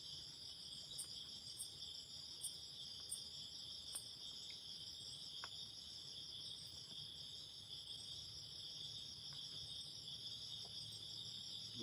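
Crickets chirp at night on a quiet, isolated mountain, a steady high trilling that fills the background, with a few faint pulses standing out over the soft, even hiss.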